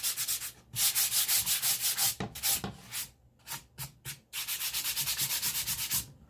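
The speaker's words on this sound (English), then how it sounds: "I'm sanding" Hand sanding of wood along the grain with sandpaper: repeated rhythmic back-and-forth scratchy rubbing strokes, close and fairly loud, with brief pauses between bursts.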